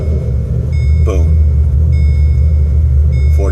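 An LS V8 engine in a car, unstarted for over two weeks and just primed with oil, idles with a steady, loud, deep rumble that runs throughout, with brief faint voice sounds over it.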